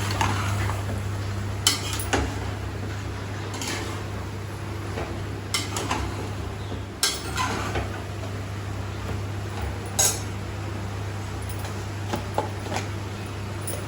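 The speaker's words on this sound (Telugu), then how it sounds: "ఇది బాగా కొంచెం అంతా ఇంకేదాకా తిప్పాలి" A spoon scrapes and knocks against a metal pot while mutton curry with salt is stirred, giving irregular close clinks and taps over a steady low kitchen hum.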